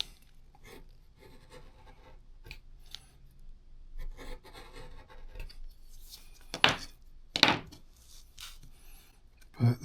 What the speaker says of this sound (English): that's how you sharpen the inside of a French skiver, edger